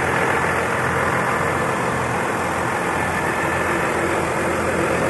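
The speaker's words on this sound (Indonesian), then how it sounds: "mantap pol ya teman-teman ya suara mesinnya" Engine of bus 04C running steadily at departure from an agency in Tanjung, Magelang, a loud continuous rumble with no pauses and no talk.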